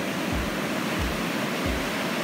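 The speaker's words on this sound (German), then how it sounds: "die Wellen sind schon anders Kaliber" Ocean surf along the South African coast rolls in as a dense, steady wash of noise, with a few soft low swells surging underneath and no voices.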